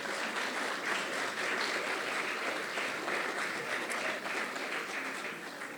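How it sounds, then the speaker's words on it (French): An audience at an eloquence tournament claps for a contestant as she is introduced; a fairly faint, even wash of many hands continues for several seconds at a distance. "c'est Séraphine Leduc, qu'on applaudit très fort."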